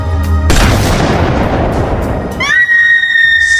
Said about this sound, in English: He shot that girl.